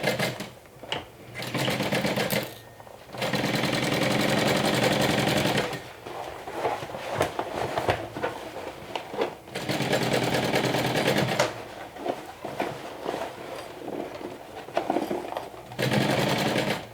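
A sewing machine stitches the side panels of a garment, running in several steady bursts of rapid mechanical whirring separated by short pauses, close and loud with no talking.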